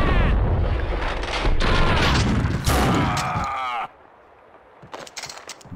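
Loud bursts of gunfire and booming blasts in Max Payne 2 crowd the first few seconds, then cut out, leaving scattered fainter shots and clatter.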